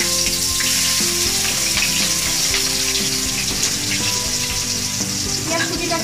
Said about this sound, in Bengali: এরপর এতে আমি পেঁয়াজ কুচিটা দিয়ে দেবো।